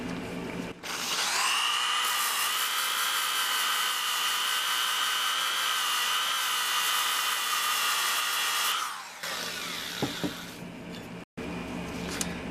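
A power sander spins a 150 grit disc against the steel of a vintage hatchet with a nail puller, producing a steady, loud, high whine for about eight seconds before winding down into quieter handling noise.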